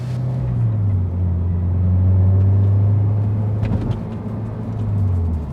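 Car fitted with track coilovers on the road, a loud low engine rumble with steady droning that swells and eases slightly as it drives, heard from inside without talk.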